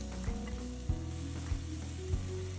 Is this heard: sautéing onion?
yes